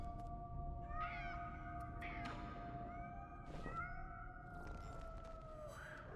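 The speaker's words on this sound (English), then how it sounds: "Are those cats?" Several cats meow and wail in the video game Nine Sols. Drawn-out, overlapping cries rise and fall over a low ambient drone, with no speech.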